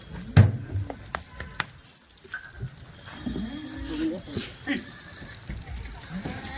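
Goats at a goat market, including long-eared, double-boned animals just arrived by truck, bleat in short bursts close by, mixed with someone talking steadily and general crowd bustle.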